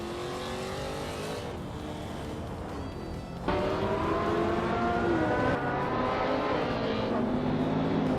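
A 2017 Honda SX race car engine roars continuously during a tight race, its pitch rising and falling with gear changes, loud and steady, growing louder midway as the car closes in.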